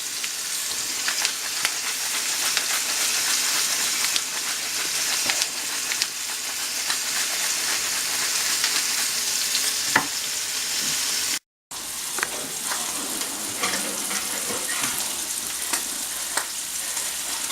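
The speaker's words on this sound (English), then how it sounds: "Alright, so we got our pork chops browned on both sides." Pork chops browning in a pan, frying with a steady, dense sizzle and crackle that runs almost continuously, broken only by a brief silent gap near the end.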